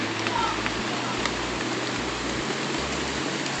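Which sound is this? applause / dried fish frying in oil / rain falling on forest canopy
rain falling on forest canopy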